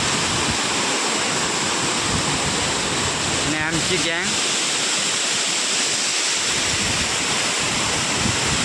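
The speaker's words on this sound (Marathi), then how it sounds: "प्रसिद्ध धबधबा आहे व्याघ्रेश्वर धबधबा" Vyaghreshwar waterfall in Konkan, with mist blowing off the high falling water: a steady, loud broadband roar of cascading water fills the whole stretch, with a short burst of voices and a brief chirping sound near the middle.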